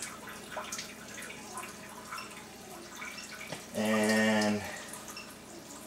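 Chanson Miracle water ionizer on its strong alkaline setting running water at low pressure, a steady trickling flow under a brief spoken word, followed by a louder tonal rushing surge for about a second.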